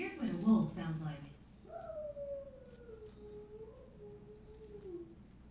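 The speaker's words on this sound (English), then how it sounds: "Here's what a wolf sounds like." A wolf howl played back by Google Assistant rises and slides in a long wavering tone after a brief spoken intro, fairly faint and heard indoors.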